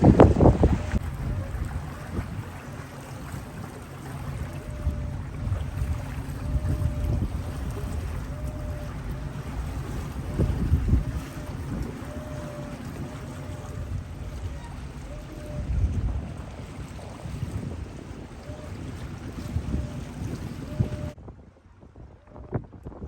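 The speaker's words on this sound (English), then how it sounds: "We're getting a few gusts coming through." Steady, heavy wind noise buffets the microphone for over twenty seconds, with gusty swells over a low rumble near water, then cuts out abruptly at the end.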